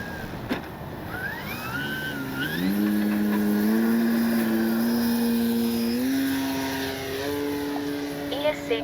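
A Hangar 9 J-3 Cub 10cc RC airplane flies overhead, its propeller engine droning steadily and rising in pitch as it passes, fairly loud and continuous throughout.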